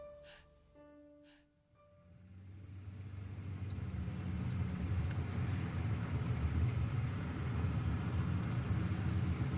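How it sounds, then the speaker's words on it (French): Car stuck in traffic: a low, steady engine and road rumble swells in after a few brief tones at the start, then holds at an even level. "Je suis dans ma voiture, bloqué dans le trafic"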